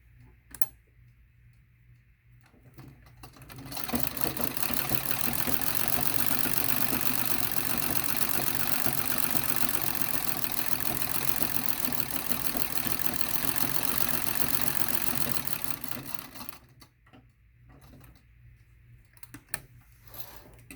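A sewing machine stitches fabric triangles together in one steady, fast-ticking run lasting about twelve seconds, preceded and followed by quiet handling sounds.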